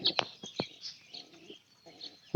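Soft, low pigeon coos come in short bursts among scattered high chirps, ending with a sudden loud thump.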